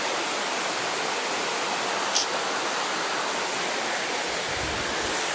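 Monsoon rain pours steadily over a flooded village garden, a dense, even hiss of heavy rainfall and running water close by, with one brief sharp knock partway through.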